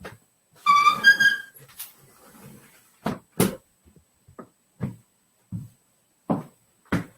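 A pet dog whining and whimpering near a door, asking to be let out: a burst of high, wavering whines at the start, then short scattered yelps and scratchy sounds at intervals, fairly close with no talk.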